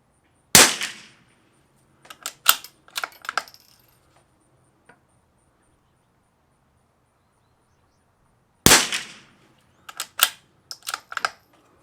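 Rimfire rifle shots from a Lithgow LA101 and a CZ 455 with Walther barrel firing Eley Tenex ammunition: two loud, sharp reports about eight seconds apart, each followed by a short run of clicks and clacks from working the action.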